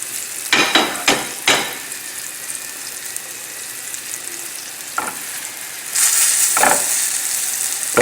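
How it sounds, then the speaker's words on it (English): Salmon fillet with rosemary sautéing in a frying pan, a steady crackling sizzle with a few louder spattering bursts and stirring scrapes, the frying growing brighter and busier toward the end. "That smoke is good. That means we're getting nice and crispy."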